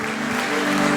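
Church congregation applauding during a sermon, a dense, continuous wash of clapping from many hands, loud and steady, with no pauses.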